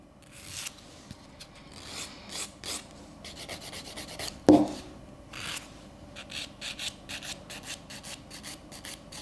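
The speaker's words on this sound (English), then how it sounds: "Blending out that tip, scratching off the rest of it." A nail file rasps against an acrylic French nail tip, blending it out and scratching off the rest in quick, close, irregular strokes with short bursts and pauses, one stroke louder than the others.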